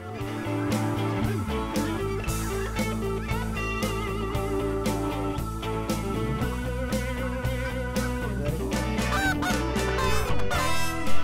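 Geese honking during a waterfowl hunt, a dense overlapping chorus of many loud calls continuing throughout, with repeated honks from a close flock.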